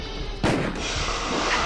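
A single heavy Magnum gunshot in Resident Evil Director's Cut, a sharp loud blast with a brief decaying boom and then a steady background hum.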